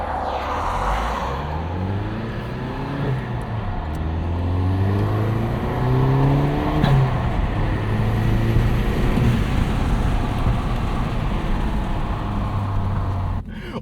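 A turbocharged 2009 Chevrolet Cobalt SS accelerates hard on a fall road, its engine climbing repeatedly through rising revs with turbo boost noise, loud and close from inside the car, with a sharp shift near the middle.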